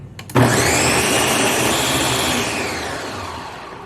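A Ninja BN701 Professional Plus blender is pulsed on and whirs loudly and steadily at close range, a high motor whine over churning contents, easing slightly toward the end.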